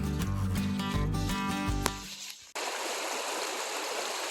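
A creek flowing beside an old logging road near Hoodlum Falls: a steady rushing wash of water that takes over clearly after a brief burst of other sound at the start.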